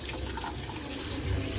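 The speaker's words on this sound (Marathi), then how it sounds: "आता आपण फिश धुवून घेणार आहोत." Running tap water splashing as a pomfret fish is washed under it, a steady close hissing gush with slight shifts as the fish moves through the stream.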